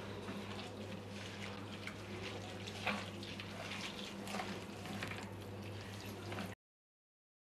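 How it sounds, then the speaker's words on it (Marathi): Water is poured into a mixer jar of ground spices, green chilli and coriander for a mackerel curry, a soft, continuous splashing and trickle over a low kitchen hum before it cuts to silence. "आता यामध्ये आपण पाणी घालूया।"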